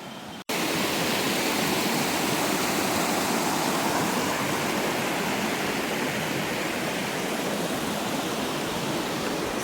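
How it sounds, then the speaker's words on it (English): Laguna Sagrada waterfall near Santa Marta pouring in a steady, loud, full roar of broadband rushing water that starts abruptly after a brief cut and holds unbroken throughout, with no voices. "the waterfall here is very amazing, peaceful."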